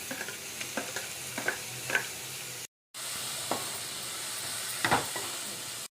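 Onions, ginger garlic paste and chopped tomatoes fry in a pan for a broad bean tomato curry, giving a steady sizzle with intermittent spatula scrapes and clicks, broken by a brief moment of silence midway.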